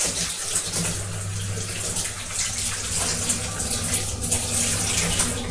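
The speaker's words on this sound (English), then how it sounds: "I'm just going to wash my hands" A kitchen tap runs while hands are washed at a sink after baking a chocolate and orange drizzle cake, a steady close splashing stream with a low hum beneath it.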